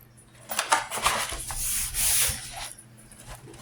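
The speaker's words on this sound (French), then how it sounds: "je vais faire mon coloriage tranquillement" Soft, scratchy strokes of colouring pencil on paper, quick back-and-forth rubbing in uneven bursts, close and quiet.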